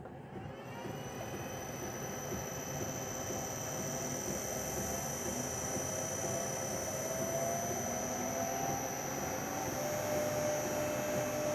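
A Bridgeport milling machine motor, freshly fitted with new bearings, runs at a steady even hum with a faint rising whine, close and constant throughout, no voices.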